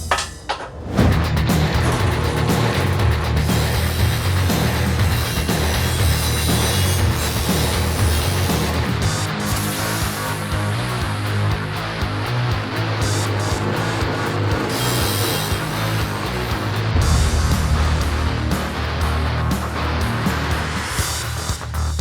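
Narrow grinder wheel working a steel piece of a Stormbreaker axe replica in a workshop, a loud, continuous, close roar with steady gritty hiss and no pauses.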